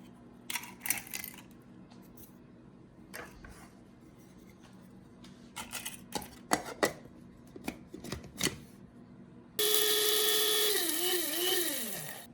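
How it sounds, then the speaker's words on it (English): A coffee grinder whirs loudly and steadily for a few seconds, grinding eggshells into powder, its pitch sagging as it runs, after a stretch of quiet clicks and handling noises. "now we're going to use our clean coffee grinder to get these ground down into a fine powder"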